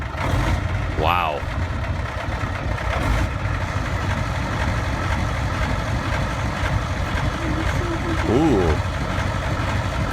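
A European tank's diesel engine idling after a cold start, a steady low industrial rumble running under the whole clip, with someone talking over it.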